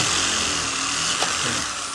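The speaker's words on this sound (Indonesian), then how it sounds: "Mata bornya pakai mata bor 3 in ya, atau 3 in setengah juga boleh" An electric drill with a drill bit boring into the body panel of a Ninja 250FI motorcycle, a loud, steady high-pitched whine that runs without a break and carries a brief surge midway.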